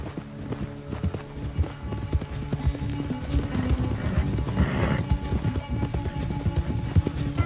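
A horse gallops steadily in Red Dead Redemption 2 during a race to a ranch, with rapid rhythmic hoofbeats up close, a neigh partway through, and game music and ambience underneath.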